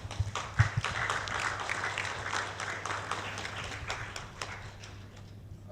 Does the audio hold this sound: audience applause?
yes